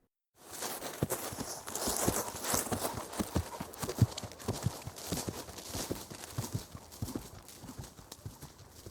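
A ridden horse's hooves clip-clop in a steady walking rhythm, close and clear, continuing for several seconds with no talk over them.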